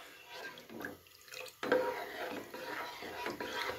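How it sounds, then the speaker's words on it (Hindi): A spoon stirs about a kilo of full-fat milk in a pot, giving soft liquid swishes and light scrapes at close range, with a louder clatter partway through and a steady wet churning after. "अब चम्मच को चलाएंगे"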